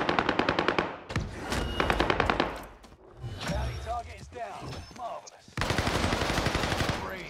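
Rapid automatic gunfire from a Warzone match on the Caldera map, loud repeated bursts at the start and again near the end, with players talking over the action in between.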